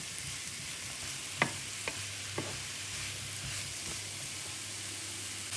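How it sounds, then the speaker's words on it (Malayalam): Mushrooms sautéing in hot oil in a pan, a steady soft sizzle broken by a few sharp taps of a utensil against the pan, with no talking. "നമുക്ക് മഷ്റൂം എണ്ണയിൽ നന്നായിട്ടൊന്ന് വഴറ്റിയെടുക്കാം."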